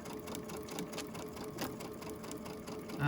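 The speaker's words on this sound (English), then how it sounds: "You don't need to sit here and watch me sew a straight line" A sewing machine stitches a straight seam in fabric, its rapid, even needle chatter running close and continuous throughout.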